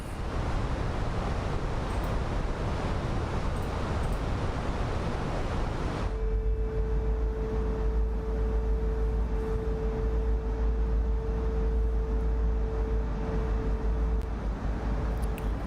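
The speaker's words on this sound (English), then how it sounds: "I love the sound of these engines." Jet engines of a Fenix A319 in MSFS 2024 roar steadily just after landing. The broad, even rush drops after about six seconds into a deeper rumble with a thin, constant whine on top.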